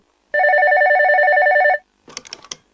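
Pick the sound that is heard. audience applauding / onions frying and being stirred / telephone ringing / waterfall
telephone ringing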